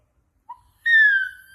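A person imitates an elephant trumpeting with one short high squeak and then a loud, sustained, slightly wavering high-pitched call, heard alone in a quiet room.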